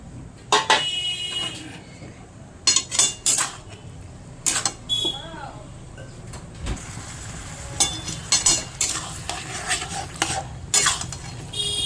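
Marinated chicken is tipped into a pan of cooked-down spices for Bengali chicken kosha, with repeated close metal clatters and scrapes of utensils against the pan, spaced irregularly over a low background hiss.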